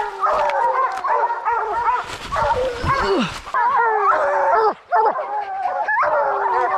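Young hunting dogs bark, yip and whine in excited howling bursts at a bear treed in the woods, loud and close, with a person briefly grunting.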